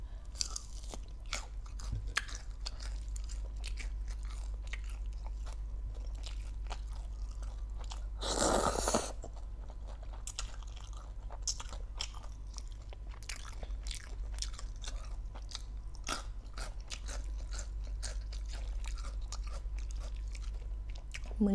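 Crispy pork papaya salad is chewed close up in a quiet room, producing steady soft crunching bites with one louder crackling burst partway through.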